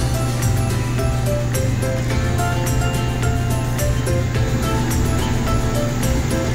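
Corned beef and chayote simmer in water in a pot, giving a steady, close bubbling hiss with a faint low hum underneath that runs unbroken throughout, with no one talking.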